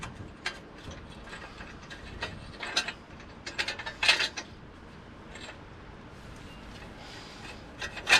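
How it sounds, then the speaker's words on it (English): A socket and ratchet tighten a bolt while working on a 2009 Ram 1500 2WD during tie rod and wheel bearing replacement, faint quick clicking bursts and metallic clinks scattered irregularly, close by. "Let me grab this old socket here,"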